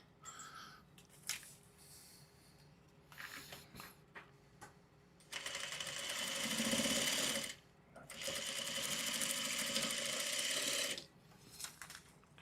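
A sewing machine stitches in two long, steady bursts of rapid mechanical whirring, close and clear, broken by short pauses and a few clicks between runs.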